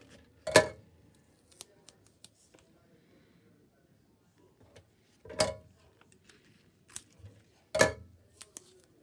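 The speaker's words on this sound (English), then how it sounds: "I need to cut it, otherwise it might rip my paper." Scissors snip double-sided tape for a Christmas gift bag journal, three sharp, close cuts spaced a few seconds apart over a quiet room.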